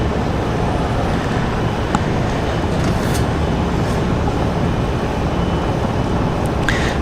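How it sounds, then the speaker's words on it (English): Southwest airliner taxiing at Washington Dulles airport: a loud, steady broadband rumble and hiss that carries on without a break, with no voices. "Let's swing around to the taxiing Southwest here while we await some of our next arrivals."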